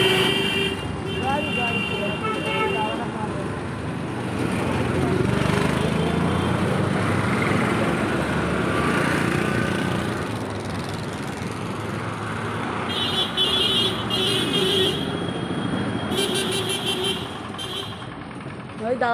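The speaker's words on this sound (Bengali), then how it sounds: "এত গাড়ি আসছে" Busy roadway traffic in Joynagar, with cars and motorbikes passing close by in a steady, loud rumble and several short horn toots near the end. A voice speaks over the traffic.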